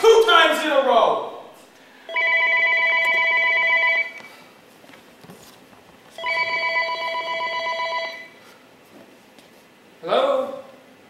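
An old-style telephone rings in a staged performance of the play Rumors, in two steady, evenly spaced bursts with quiet gaps between them. Voices are heard briefly at the start and the end.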